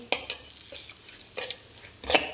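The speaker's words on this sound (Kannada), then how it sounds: "ತುಪ್ಪ ಹಾಕಿಬಿಟ್ಟು ಬಿಸಿ ಆಗುವಾಗ ರವೆಯನ್ನು ಕೂಡ ಹಾಕ್ತಾಯಿದ್ದೀನಿ." A spoon stirs semolina frying in hot ghee in a pan, with a few sharp scrapes and clinks against the metal over a soft, steady sizzle.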